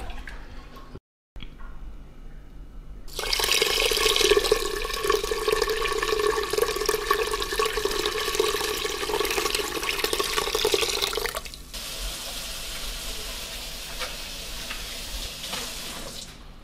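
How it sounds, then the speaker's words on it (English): Dandelion tea poured through a sieve, a steady broadband rush of liquid lasting several seconds before easing into a softer, thinner trickle; close and fairly loud, with no talk. "we're going to run it through the sieve a second time just to make sure it's nice and clean"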